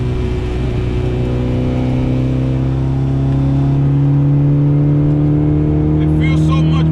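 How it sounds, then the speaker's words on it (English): A Honda Civic EG engine drones and climbs in pitch as it accelerates through long gears, loud and close from inside the car, with a faint clatter at the end. "even when I press the gas, I don't know if you guys can pick that up on video, but you see how quick the response is?"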